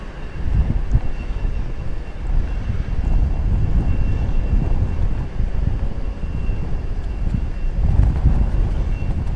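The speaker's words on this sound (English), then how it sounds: "There you see a plane taking off on the east side of the the airport as we watch this one rolling down the runway." A jet airliner rolls down the runway on takeoff at Dallas/Fort Worth International Airport, a steady, loud low roar of engine and rumble that holds throughout with slight swells, heard alone without voices.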